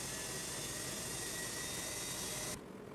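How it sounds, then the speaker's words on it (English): A restored 1940s L&R Master watch cleaning machine's motor runs with a steady, loud whirring hum that cuts off abruptly near the end, leaving quieter background. "I'm so glad that the motor head worked as planned."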